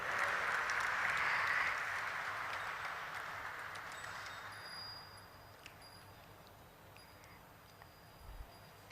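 Applause at the listing ceremony of Popular Vehicles and Services Limited, a broad crowd clapping that swells loud at the start and then slowly fades, with a few faint clicks near the end.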